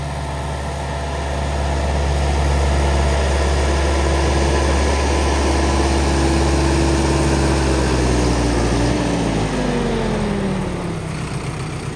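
Sonalika tractor engine running steadily with a loud, constant low drone and rumble, its pitch easing down near the end.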